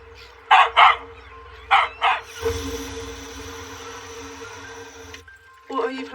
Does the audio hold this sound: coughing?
no